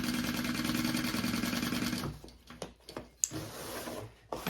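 A sewing machine stitches the bottom seam of a Danbury tote bag at a widened seam allowance, whirring steadily for about two seconds before stopping, followed by quieter handling, rustling and clicks.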